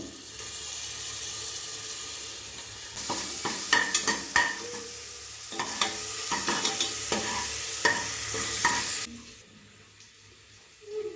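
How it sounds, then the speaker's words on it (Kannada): Ginger garlic paste frying in hot oil in a pan while being stirred, a steady close sizzle broken by scraping stir strokes, fading near the end. "ಈಗ ಶುಂಠಿ ಬೆಳ್ಳುಳ್ಳಿ ಪೇಸ್ಟ್ ಫ್ರೈ ಆಗಿದೆ."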